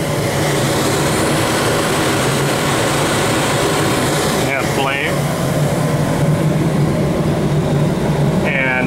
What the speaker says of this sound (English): So we can see the oil burners fired up.